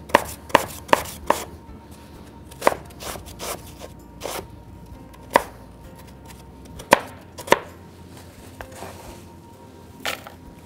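Crunchy cookies chopped with a knife for a two-layer ice cream dessert, heard as a series of crisp, sharp cuts in irregular bursts, some rapid and some spaced apart, close and clear against a quiet kitchen background.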